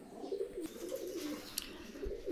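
Pigeons coo softly in a rolling, murmuring series, faint and somewhat distant against a quiet background.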